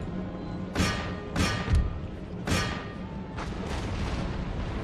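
Artillery cannons fire in Empire: Total War, a land battle with Great Britain, as several loud booming shots ring out at irregular intervals with a lingering rumble between them and no talk.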